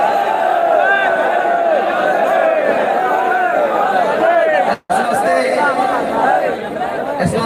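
A large crowd at a religious rally roars and chants together, a loud, dense wall of many voices that holds steady with one abrupt brief cutout and dips slightly at the end.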